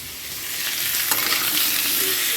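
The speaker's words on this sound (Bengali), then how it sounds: "আমি আলু ভাজতে দিয়েছি আলু ভাজা হচ্ছে" Potatoes frying in a pan at home, a loud, dense and continuous sizzle with a few faint scrapes mixed in, with no voices over it.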